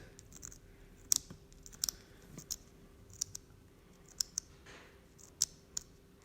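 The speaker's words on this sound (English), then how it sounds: "the penny's kind of scratching it." A penny scratched against an unidentified rock during a hardness test, heard as sparse, sharp little clicks and scrapes at irregular intervals, faint and close, with no talking.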